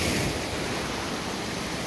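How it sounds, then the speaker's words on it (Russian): Sea waves on the coast at Mahmutlar, Alanya, Turkey make a steady broadband wash of surf, loud and close, with no voices. "Ох, какие волны."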